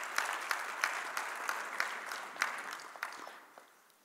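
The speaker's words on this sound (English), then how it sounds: "A round of applause for all the presidents and for Max." Audience applause at an evening event honouring presidents and a host, a steady clapping roll with sharp individual claps that fades out toward the end.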